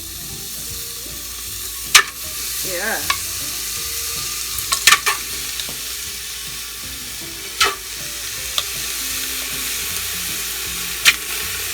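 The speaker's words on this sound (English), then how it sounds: "Look, no oil is in the pot, so I just sizzle it." Oxtail searing without oil in a pressure cooker pot gives a loud, constant sizzle and hiss, with scattered clanks of a utensil stirring and a brief spoken word.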